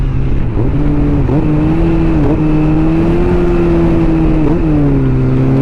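A Kawasaki ZX-4RR 400 motorcycle engine holds a loud, steady high-rpm drone close by, with small dips and rises in pitch as the throttle shifts, and no talking over it.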